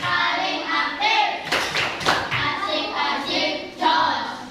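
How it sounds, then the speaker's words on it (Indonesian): Children in a class 6A classroom perform a clapping chant, bursts of rhythmic hand claps and taps mixed with young voices calling out in unison, close and lively. "Tepuk kelas 6A"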